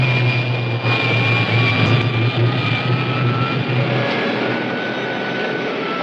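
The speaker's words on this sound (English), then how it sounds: "Fire pilot jet. Fire pilot jet." A rocket ship's pilot jet fires as a film sound effect: a continuous loud roaring drone with a steady low hum and faint whining tones, sustained for several seconds without speech.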